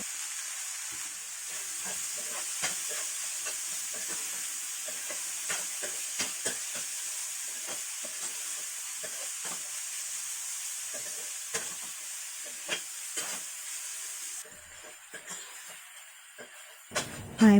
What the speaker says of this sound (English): I will just stir fry it